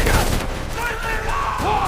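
Gunfire in a war dramatization, a dense fusillade of rapid shots under raised voices and background score.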